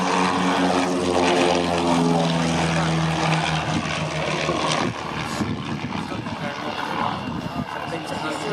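Propeller aerobatic aircraft with yellow upper surfaces running in for a loop at the Biggin Hill airshow, a loud sustained engine drone that shifts in pitch as it passes, with a person talking over it throughout.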